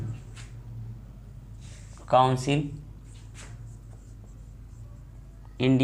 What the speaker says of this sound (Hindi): अगर मैं इसे लिखूं तो आप लिख पा रहे हैं ना